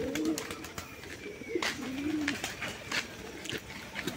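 Desi golla pigeons coo in low, rolling, wavering calls that repeat steadily at close range. Light rustling and scattered clicks from the birds sit underneath.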